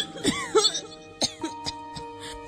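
A person coughs near a hospital bed in a small room with a half-empty glucose drip bottle: several harsh, separate coughs with a throat-clearing rasp, close and alone over quiet background.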